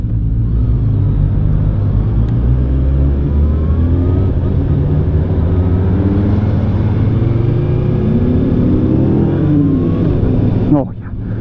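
Kawasaki ZX6R sport bike accelerating hard on a test ride, its loud engine climbing through the revs with rapid quick-shifter gear changes, then a brief pause near the end.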